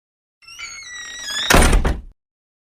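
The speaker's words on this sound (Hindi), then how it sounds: "तू तोड़ बेटा, दरवाजा तोड़।" A door being forced and broken down in an animated family drama scene: a rising creak and strain, then a loud splintering crash lasting about half a second before abrupt silence, close and alone.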